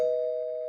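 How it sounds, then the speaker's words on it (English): A cartoon-style doorbell chime rings once as a clear, sustained electronic tone, close and alone, fading slightly over under a second. "as the doorbell rang"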